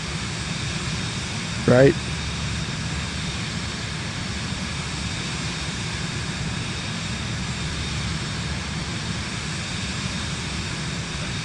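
Steady broadband roar of a Boeing jet engine in Microsoft Flight Simulator 2024, a constant loud drone throughout with a brief spoken word near the start.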